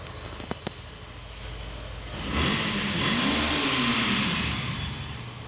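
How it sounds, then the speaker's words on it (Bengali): A Suzuki Gixxer motorcycle engine idles quietly, then revs up strongly for a few seconds with a rising and falling pitch before easing back down. "বাইকটির সাউন্ড দেখতে পাচ্ছেন"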